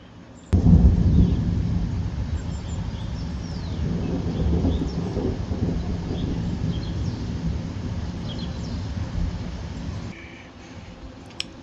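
A February thunderstorm over Bordeaux, France: a sudden loud crack of thunder opens into a long, heavy rumble that rolls on for several seconds before fading, with a faint patter of rain beneath and no talking.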